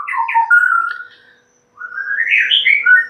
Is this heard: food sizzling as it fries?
no